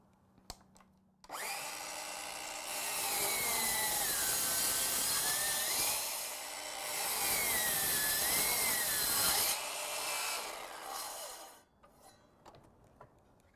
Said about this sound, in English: So I prefer to use a steady chop saw.